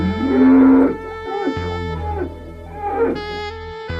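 Cows in a Minecraft-style video game moo loudly, with one long low bellow up front followed by a couple of shorter overlapping calls, close and clear with no talking.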